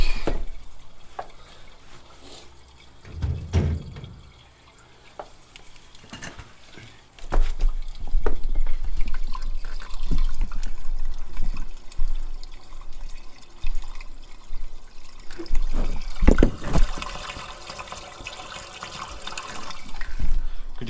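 Water rushes steadily through household plumbing once the supply is turned back on during flood repair work, a loud continuous broadband wash with a brief splash before it swells and persists.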